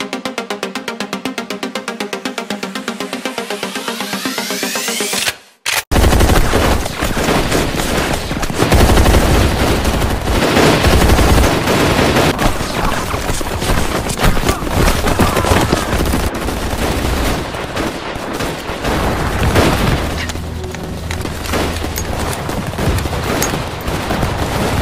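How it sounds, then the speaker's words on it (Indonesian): Sustained machine gun fire in a war film about the Japanese occupation, loud and dense bursts rattling continuously after a brief musical lead-in and a sharp pause. "Dan mulai bergerak, mereka memberondong semua musuh dan akan membumi hanguskan para penjajah itu"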